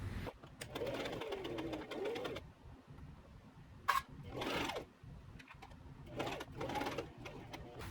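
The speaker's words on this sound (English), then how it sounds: "So I'm gonna sew this on and then probably stop there" A sewing machine stitches a puff sleeve tiered dress in several short bursts separated by pauses, close and clear, with a bird cooing faintly in the background.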